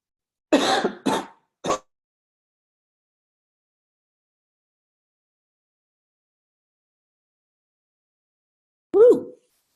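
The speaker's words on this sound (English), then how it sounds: "This cough I can't quite get rid of" Three quick, harsh coughs close to the mic come one after another. Several seconds of silence follow, and then a single throat-clearing cough. The person has a lingering chest cough.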